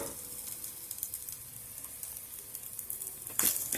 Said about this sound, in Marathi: सात ते आठ लसणाच्या पाकळ्या घेऊया तेसुद्धा आपण या पॅनमध्ये टाकून घेऊया आणि छान परतून घेऊया